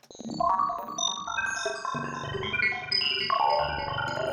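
A shimmering Pigments synthesizer wind-chimes pad with scattered bright chime-like tones drifting over a warm, swelling bed of sound, steady and continuous.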